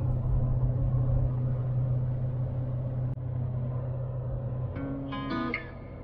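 Heavy interstate traffic heard from inside a pickup truck, a steady low road rumble and drone of passing vehicles throughout, with a brief tonal beep-like sound near the end.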